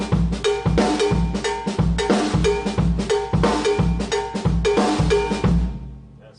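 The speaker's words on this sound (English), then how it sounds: "I just filled in the 8th notes that are left with ghost notes." A go-go drum beat on a drum kit, with ghost notes filling the eighth notes, plays as a busy, syncopated groove of accented hits and bell-like clanks, loud and steady for about six seconds.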